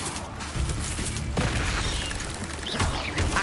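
Spell effects from Hogwarts Legacy, Incendio and Leviosa, heard as dense whooshing blasts and booming impacts over constant game noise. A sharp burst lands near the middle.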